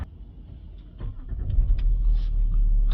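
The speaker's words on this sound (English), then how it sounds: "We'll get back in and start the vehicle up now." A Range Rover 3.0 diesel cranks and fires up after DPF cleaning work, a short starter churn building into a steady, close low idle rumble with no talking.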